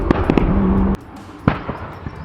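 An 850 HP Porsche 911 Turbo S engine rumble cuts off abruptly at 4,000 RPM, followed by a sharp exhaust backfire bang and a few smaller pops as the throttle is released.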